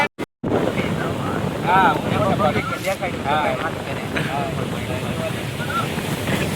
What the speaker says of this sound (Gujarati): બાકી દરિયાનો પણ ટાઢો પવન છે ને જોરદાર